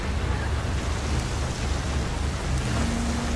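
Heavy rain pouring down in the GTA V LSPDFR police mod, a dense, constant hiss of rainfall with low rumbling underneath, loud and unbroken, no one talking.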